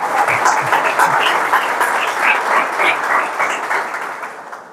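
A church congregation claps together in loud, dense, sustained applause that fills the hall evenly, then begins to thin out toward the end.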